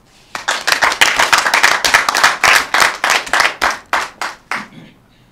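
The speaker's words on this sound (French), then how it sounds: "je voudrais vous inviter à offrir également un tonnerre d'applaudissements" Audience applause at a Benin adhesion ceremony: a burst of rhythmic, fairly close clapping that settles into slower, separate claps and fades after about five seconds.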